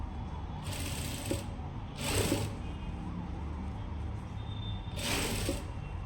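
A sewing machine stitches the lining of a blouse sleeve in short, quiet bursts of whirring, with pauses between runs against a low background hum.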